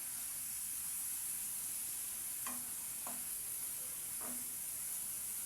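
Onion paste for fish curry being stirred in a pan over a soft steady sizzle, with three short scraping strokes of a spoon standing out over the hiss.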